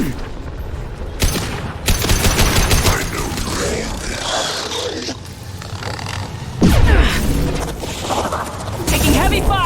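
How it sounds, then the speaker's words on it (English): Heavy gunfire during a battle in the video game Mass Effect 2, loud bursts of shots and blasts with mechanical clanks, mixed with shouted voices and combat noise throughout. "Taking heavy fire!"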